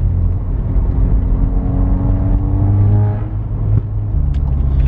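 A Volkswagen Golf R pulls hard, its engine droning loud and close in the cabin with a rising, whirring tone, a brief dip and lift near the end, and no talk.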